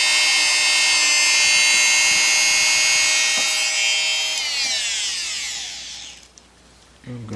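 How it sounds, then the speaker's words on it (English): A rotary tool grinds a turquoise stone with a steady high whine that holds strong for about four seconds, then winds down in pitch and fades out as the tool spins to a stop. "that stone was kind of rough grind all the way around"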